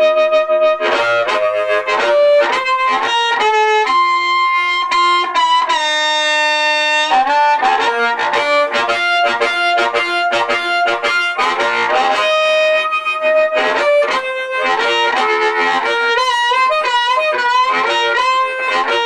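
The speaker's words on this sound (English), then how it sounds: "Activating the harp octave pedal," A harp played through a Lone Wolf octave pedal plucks a quick melodic lick with a thick, doubled octave tone, notes ringing brightly and steadily throughout.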